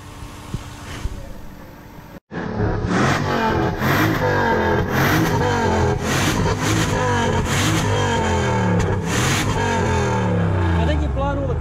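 A Toyota 1UZ-FE VVTi V8 swapped into a Mitsubishi Delica L400 4x4 van, its exhaust clogged with carbon, revs repeatedly and loudly after a sharp start, pitch climbing and falling in rising sweeps, with people talking over it.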